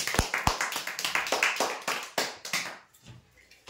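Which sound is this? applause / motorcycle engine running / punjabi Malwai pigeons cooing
applause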